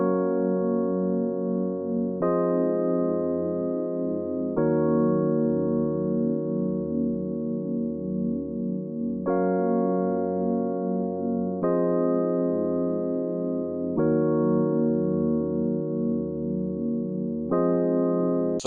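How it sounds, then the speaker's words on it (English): Rhodes electric piano chords layered with a wide reverb synth pad, sustained soulful chord changes every couple of seconds in a smooth, warm progression with no voices. "So the Rhodes and pad together, they both sound like this."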